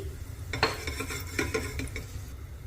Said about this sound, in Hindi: तेल हमारा गर्म हो चुका है, इसमें पहले डाल देंगे इलायची